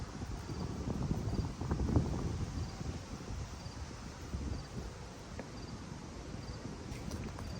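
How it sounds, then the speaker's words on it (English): Steady broadband wind noise buffets the microphone outside a van during cooking, gusting slightly louder early on, with faint rustling and a thin insect-like chirp in the background. "It's a little windy now."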